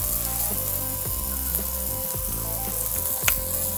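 Banana slices sizzling on a hot breakfast griddle alongside eggs, a steady close crackle and hiss running throughout with faint scraping.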